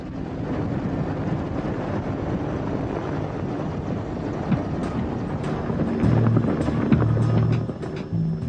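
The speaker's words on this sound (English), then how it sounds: "An Mi-24 assault helicopter captured from Iraqi troops in the Gulf War." A captured Mi-24 Hind assault helicopter drones with a steady low rotor and engine rumble, sitting mid-distance and fairly loud, swelling slightly near the end.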